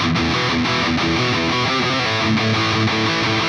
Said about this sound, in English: When the solo kicks in, we're going to have this cool variation of the main riff.